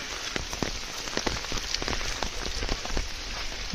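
Heavy rain falls steadily on surfaces in a village near Panshet Dam, a close, dense patter with occasional sharper drips and no voices.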